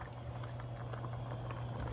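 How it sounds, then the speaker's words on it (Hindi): Yakhni stock for chicken pulao at a rolling boil over high heat as the water reduces, a close, steady bubbling and simmering hiss with a low hum underneath, continuous and unbroken. "मैंने तेज़ आंच पे इसको रखा हुआ है और ये पानी रिड्यूस कर रही हूँ"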